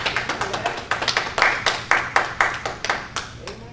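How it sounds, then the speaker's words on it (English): Clapping from a church congregation during a sermon, heard as a loose, rhythmic run of close, fairly loud claps with a rough steady beat rather than a full ovation. "I know I normally get a little better applause than that"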